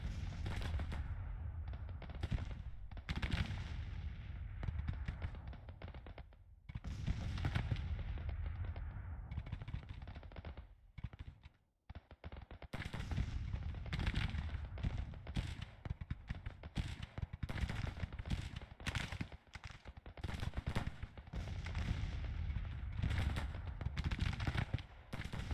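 Dense artillery and gunfire from a Civil War battle in the strategy game Grand Tactician, 1864 campaign: near-continuous booming cannon volleys and rattling musketry that thin briefly to near quiet midway before resuming at full intensity.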